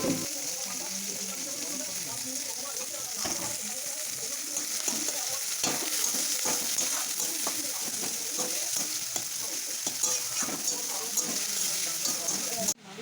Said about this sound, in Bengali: এইখানে মাংস তুলে মাংসটা কষা হচ্ছে